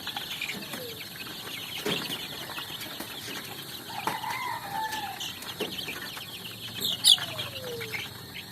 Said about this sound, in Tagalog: mapapansin nyo itong mga sisiw natin